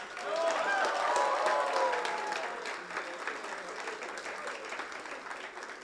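Applause from an audience at a management HR conclave swells quickly into a dense round of clapping with some voices mixed in, then thins gradually into scattered claps.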